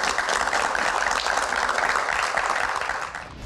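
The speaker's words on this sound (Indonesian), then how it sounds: "Tepuk tangan." Audience applause at a Q&A talk show, a dense, even wash of many hands clapping at once, steady and fairly loud before tapering off at the end.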